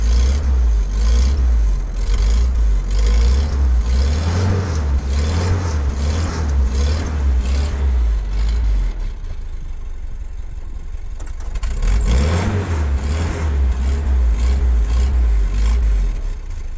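A car engine revs up and down in rising and falling surges, drops back toward idle in the middle, then revs again loudly.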